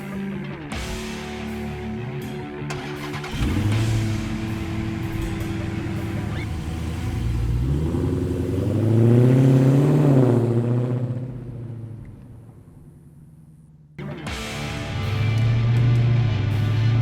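A supercharged 6.2-liter Dodge Challenger SRT Hellcat Widebody drives on the road, its engine rising and falling through loud revs and gear changes, easing to a quiet lull before surging again.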